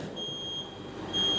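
An electronic alarm gives a thin, steady high-pitched beep that holds for about a second and a half at low volume, with no voices.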